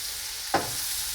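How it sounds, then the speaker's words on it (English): Continuous sizzle of shallot and celery frying in butter in a pan, with one brief stirring scrape in the middle. "We're just going to get these cooked up in the butter a little bit."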